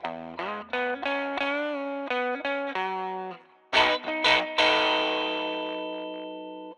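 Bright, fizzy fuzz-distorted guitar through a Death by Audio Crossover Fuzz, high band alone, playing quick staccato notes, then a harsh crackling chord that rings out and fades.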